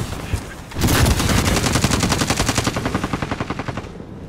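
Rapid automatic gunfire in the video game Call of Duty: Modern Warfare, a loud close burst of evenly spaced rounds lasting a few seconds, with fainter shots just before and a fading tail after.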